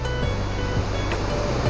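Waterfall near Gangtok roars as a steady, dense wash of falling water, loud and constant throughout, with no talking.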